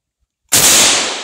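A single sharp, loud crack from a Norinco SKS rifle fired outdoors in the woods, bursting out of silence and decaying into a brief echoing tail.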